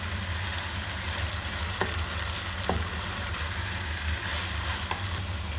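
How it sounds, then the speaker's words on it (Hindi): Fried chicken is stirred into masala sizzling in a handi, a steady, close frying crackle with a few soft spoon scrapes and taps against the pot and no voices. "और साथ ही हम इसमें जो हमारा फ्राई चिकन है वो शामिल कर देंगे।"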